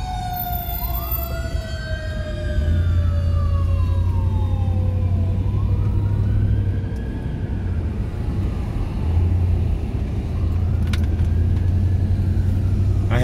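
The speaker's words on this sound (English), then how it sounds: "He's just going slow through the intersection. This is the slowest I ever seen a fire truck." A fire truck rolls slowly through an intersection, its siren wailing in repeated rising and falling sweeps over a steady low engine rumble, loud and close throughout.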